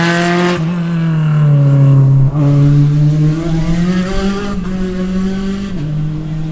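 SCCA Spec Racer Ford race cars at Sebring pass in a tightly packed group, a loud continuous engine drone with shifting pitch as several cars go by close together, revving and changing gear.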